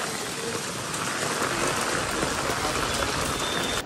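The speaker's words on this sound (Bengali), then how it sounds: "প্রচুর জোরে বৃষ্টি হচ্ছে।" Heavy rain pours down in a dense, loud, continuous broadband hiss, steady from start to finish with no voices.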